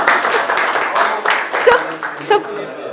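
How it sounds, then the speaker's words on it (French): Workshop audience at a soft-skills forum bursts into applause, a dense patter of clapping with a few chuckles and voices mixed in, steady and fairly close before thinning at the end. "Applaudissements, s'il vous plaît."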